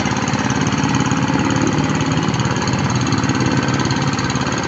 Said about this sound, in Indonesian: Dengan traktor tangan, semua kegiatan di persawahan akan menjadi mudah